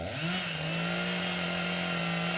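A lawnmower runs next door, a steady droning engine hum holding one pitch throughout, moderately loud and continuous with no talk over it.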